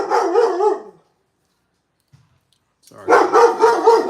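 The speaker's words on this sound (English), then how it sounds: "I got the dogs out there with me." Dogs barking outdoors at a scissor-sharpening workshop, a burst of close, loud barks, a silent pause, then another run of barking; one brief spoken word falls among them.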